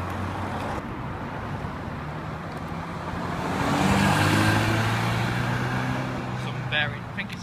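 A Ferrari 328 sweeps past on a street among supercars in Alderley Edge, its engine note swelling to a peak around the middle and fading again over steady traffic rumble, with people talking nearby.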